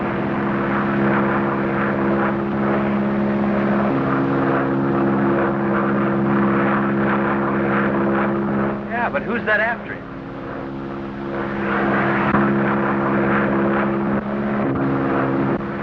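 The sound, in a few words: propeller airplane flying overhead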